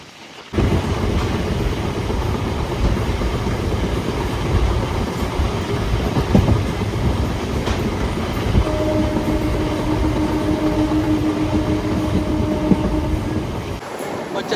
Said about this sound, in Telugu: అఫ్ కోర్స్ మెమూ ట్రైన్కి ఫుల్ అంటే యాక్సిలరేషన్ చాలా గట్టిగా ఉంటుంది.